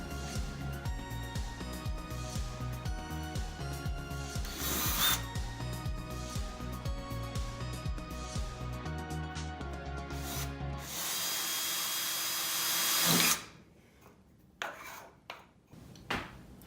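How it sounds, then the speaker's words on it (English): A power drill whirs in quick rhythmic bursts, then revs into a sustained rising whine before stopping, followed by a few scattered knocks. "I'm going to drill a hole in these two."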